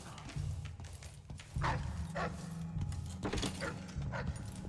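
A dog barks several times in Dishonored: Death of the Outsider, sharp separate calls over a steady low droning game ambience.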